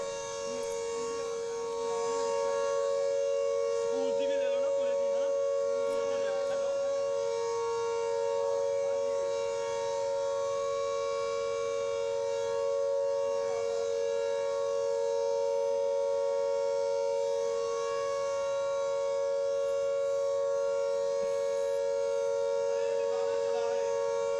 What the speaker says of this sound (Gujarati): ચેતવણીના સાયરન વગાડવામાં આવી રહ્યા છે